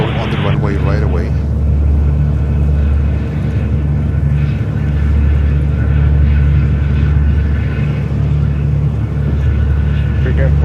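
Steady, loud roar of an ANA Boeing 777-300 jet at JFK airport, a constant engine drone with low rumble that stays even throughout, with a voice talking over it.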